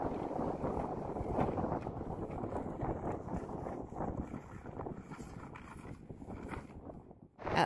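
Strong gusting wind buffets motorcycles riding south through Patagonia, a loud, constant low roar of wind noise with rising and falling surges and a brief dip near the end.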